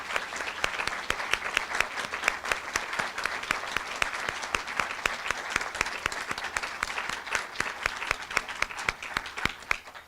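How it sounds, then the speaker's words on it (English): An audience at a journalism school Hall of Fame ceremony applauds the inductees, a steady, dense wash of clapping from many hands, sustained and even for the whole stretch with no voices standing out. "I would invite everyone to applaud once more for all of the inductees that we have heard from today."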